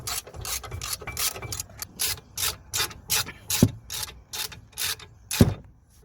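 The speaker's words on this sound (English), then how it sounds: "We're just gonna tighten these guide pins." A ratchet wrench tightens the brake caliper guide pins on a Toyota Yaris with a seized front caliper, giving about a dozen crisp, rhythmic clicking strokes up close, with a couple of heavier knocks near the end.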